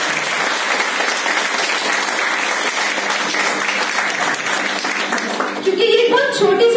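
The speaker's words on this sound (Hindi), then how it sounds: "तो मैं चाहती हूँ कि उसके लिए जोरदार तालियां हो" Strong, sustained applause from an audience at a kombucha presentation, clapping evenly for several seconds before a voice starts speaking as it fades.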